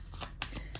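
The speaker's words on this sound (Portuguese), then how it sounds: "Deixa eu misturar essas cartas" A deck of Major Arcana tarot cards is shuffled by hand in a quick, close riffle of several soft flapping bursts, with no talking.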